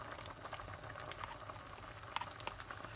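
Cabbage soup boiling in an uncovered pot, a quiet, continuous bubbling with small pops and a few brighter bursts near the end, with no voices.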